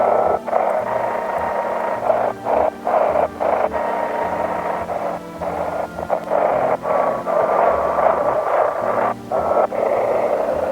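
Radio static and noisy hiss from a video game radio being tuned across stations, a steady broadband wash broken by short gaps and crackles as the dial changes, loud and close with no talking.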